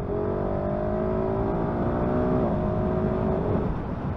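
A 2022 KTM 690 SMC R single-cylinder motorcycle engine pulls hard through the gears during an overtake, a loud, steady droning rev rising in pitch, close and continuous with wind noise underneath.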